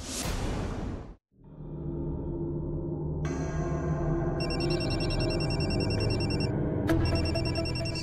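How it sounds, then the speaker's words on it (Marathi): An electronic telephone ringtone trills steadily and loudly after a brief whoosh, its bright chiming pattern repeating without any voices. "संचिता मॅडमचा फोन."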